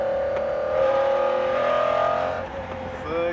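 A 1995 McLaren F1 sports car engine accelerates hard, a loud, close, sustained roar whose pitch climbs steadily before easing off briefly and surging again at the end.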